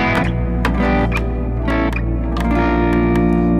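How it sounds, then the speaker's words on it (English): Electric guitar played through Boss RC600, RC505, GT1000 and SY300 effects units with distortion and reverb: sustained, buzzy chords struck several times in a loose rhythm, each ringing into a washy tail, loud and alone. "Now this reverb's got distortions, got distortion, reverb"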